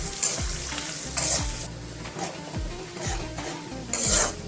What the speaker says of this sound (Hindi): ये लहसुन ऐड कर देंगे, ये प्याज भी ऐड कर देंगे। 2 मिनट में फ्राई कर लेंगे।